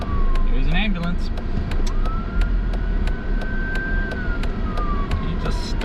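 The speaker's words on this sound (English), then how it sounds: "There's an ambulance." An ambulance siren passing on a road, heard from inside a car: a wailing tone that rises, holds and then falls away as it goes by, under engine and road noise with a person talking.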